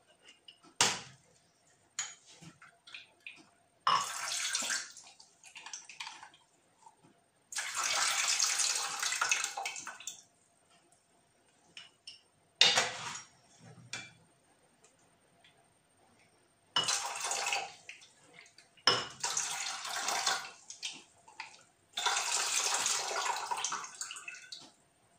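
Water pours in several separate bursts with short pauses between them, close by, filled into one jar after another while pickling grapes with apple cider vinegar.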